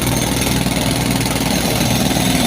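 Construction machinery working at a high-speed railway pile-driving site, a loud continuous engine drone with dense mechanical noise, steady and close, no talk.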